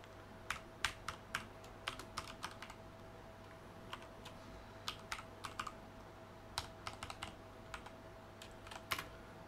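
Computer keyboard keys being typed while writing Python function code: bursts of quick, crisp clicks with short pauses, moderately close and fairly quiet, with no voice over a low steady background hum.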